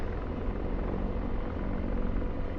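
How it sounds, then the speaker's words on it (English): An Apache helicopter in the DCS World video game thrums continuously and loudly, a dense steady rotor and engine roar with no voices. "We're gonna whip the helicopter around here."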